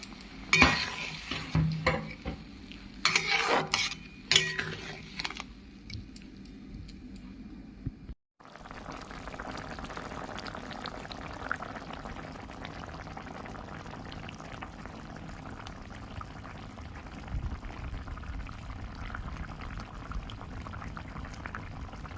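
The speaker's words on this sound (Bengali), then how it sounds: "জলটা ফুটে উঠেছে এবার আমি ভেজে রাখা আলুগুলো দিয়ে দিচ্ছি" Fried potatoes tipped into a pot of boiling water, with clinks of a utensil against the pot and stirring at first, then a steady low bubbling simmer continuing alone.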